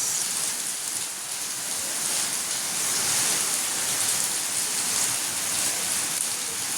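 A steady downpour roars without letup, thick broadband hiss of rain striking nearby surfaces, constant and fairly loud.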